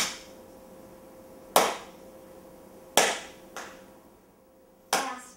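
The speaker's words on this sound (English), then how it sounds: "Stay with the clap." Sharp hand claps ring out sparsely and loudly in a room: four separate cracks spaced about a second or more apart, each with a short echo trailing after it.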